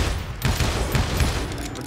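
Gunfire in the Western game Call of Juarez Gunslinger, with an outlaw wielding a double-barrel shotgun: a rapid volley of booming shots in quick succession, loud and close, with reverberant tails.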